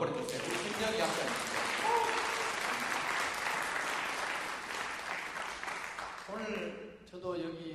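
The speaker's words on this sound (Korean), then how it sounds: "그동안 수고에 대한 박수 한번 보내주세요." Sustained applause from the audience at the opening ceremony of a Korean social culture college, honoring the dean; steady dense clapping for about six seconds with voices mixed in, then tapering off as speech resumes near the end.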